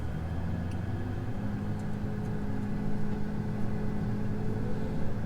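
An old one-ton truck hauls a heavy soybean header cart on a farm, its engine droning in a low, steady, unbroken rumble close to the microphone, with no voices.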